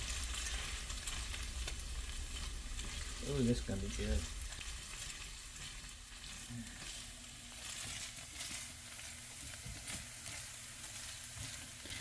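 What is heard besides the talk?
Spam fried rice frying in a pan with peas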